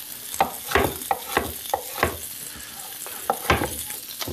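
Onion strips brown in a frying pan, with soft sizzling under a series of sharp scraping and stirring knocks at an irregular rhythm, close and moderately quiet.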